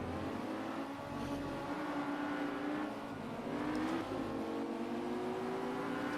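An Audi R8 V10 race car in Project Cars at the Zolder circuit, its engine droning continuously at high revs with a gently shifting pitch as it slides through corners, loud and close with no talk.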